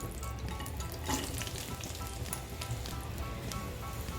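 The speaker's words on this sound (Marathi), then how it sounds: "फक्त कमी गॅसवर सारखा हलवत राहून हा गुळ आपल्याला वितळून घ्यायचा आहे" Jaggery melting in a spoonful of ghee over low heat gives a soft, continuous sizzle with faint crackles and the occasional scrape of stirring, close and fairly quiet.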